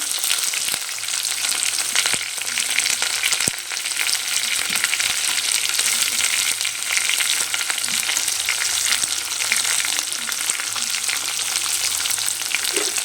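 Onions, green chilies and curry leaves fry in a pan for a potato palya, giving a loud, steady, close crackling sizzle throughout with occasional faint stirring clicks.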